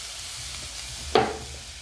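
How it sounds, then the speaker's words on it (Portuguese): Seasoning with shoyu and garlic hits hot olive oil in a pan, giving a sudden sharp sizzle burst that fades into a softer steady frying hiss over quiet background. "E agora vamos dar uma fritada nesse tempero"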